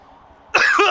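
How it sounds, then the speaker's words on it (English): A person coughing while choking on their own spit, one sudden harsh cough bursting out of near silence near the mic. "I'm choking on my own spit now"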